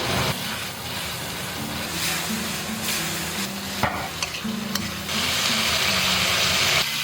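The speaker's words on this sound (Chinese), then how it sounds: "给它大火翻炒均匀" Abalone stir-fried with chili, sugar and soy sauce over high heat, with loud continuous sizzling and hissing steam broken by occasional metallic clanks and scrapes of a spatula in the wok, close with no talking.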